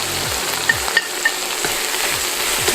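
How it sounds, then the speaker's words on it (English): A close, busy sizzle of ginger garlic paste frying in a hot pan, with a few light scrapes of stirring. "Our ginger and garlic paste has been frying for a few minutes now"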